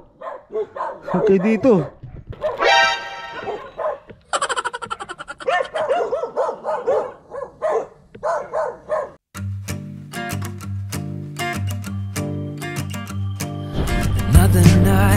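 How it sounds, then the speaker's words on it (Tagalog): Several dogs bark and yip in short bursts, mixed with a person talking nearby, before music with a steady beat takes over in the second half. "daming aso."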